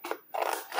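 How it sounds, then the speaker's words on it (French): Scissors cut through paper to make a scrapbook window: two quick, close, crisp snipping strokes with a short pause between them, heard alone. "je viens découper ici"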